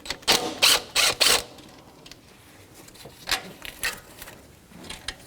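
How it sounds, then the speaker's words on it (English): A 10mm socket wrench ratchets to free the power cord from the battery on a 2006-2012 Toyota RAV4, quick bursts of clicking up close, a cluster of four sharp strokes then scattered softer ones. "a 10mm socket to remove the power cord from the battery"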